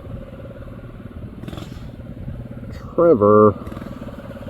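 A small gas mini bike engine idles roughly after a crash in the road, then is cranked back up with a short, loud revving burst. Someone speaks briefly over it.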